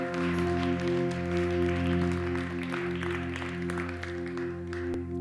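A church congregation claps together during a morning service, a dense, steady patter of hands over sustained held tones from an instrument.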